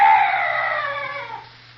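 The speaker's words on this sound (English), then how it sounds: "Oh, some night birds." A night bird gives a single drawn-out, eerie cry in a dark fantasy audio drama, loud and close at first, then fading away within about two seconds, with no voice over it.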